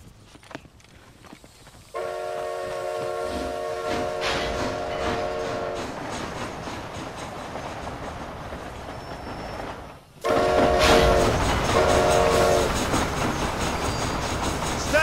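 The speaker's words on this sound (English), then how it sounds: "This train headed for Mexico?" A steam train in the video game Red Dead Redemption: Undead Nightmare rumbles along the rails with a steady clatter, and loud horn blasts sound twice, once early and again after a sharp rise in volume.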